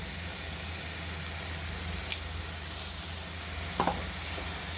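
Cauliflower sautéing in a pan gives a steady, faint, even sizzle throughout, with a couple of brief utensil scrapes and taps near the middle and toward the end.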